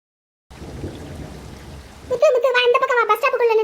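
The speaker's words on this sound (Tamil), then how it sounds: "இது என்ன இந்த மாசத்துல எல்லாம் மழை பெய்யுது?" Sudden rain falls as a steady hiss for about a second and a half, then a voice speaks loudly over it and the rain fades beneath the talk.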